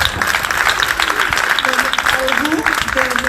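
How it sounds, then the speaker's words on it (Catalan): Audience at a book presentation breaks into steady, dense applause that fills the room for the whole stretch, with voices and a faint tonal sound mixed in underneath. "Un aplaudiment per la pubilla."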